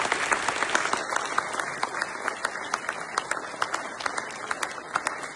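Audience applause after a political speech in Warsaw, dense steady clapping from many hands with sharper individual claps standing out, sustained at even loudness throughout.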